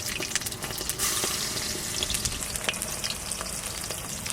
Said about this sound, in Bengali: এবার আমি সরষের তেল দিয়ে দেবো কড়াইতে, বড়া ভাজবো